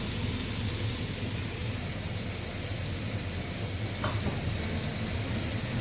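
Prawns sizzle steadily in hot oil over a high flame for egg fried rice, a dense continuous crackle with one sharp tap of the pan partway through.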